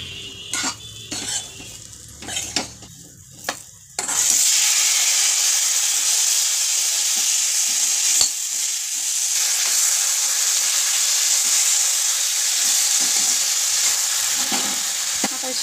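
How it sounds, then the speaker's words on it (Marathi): Red chili powder stirred into frying drumstick amti in a pan: a few scraping stirs and clinks, then a loud, steady close sizzle that hisses on without pause, no talk. "त्यात हलवायचं।"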